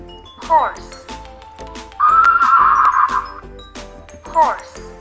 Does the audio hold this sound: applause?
no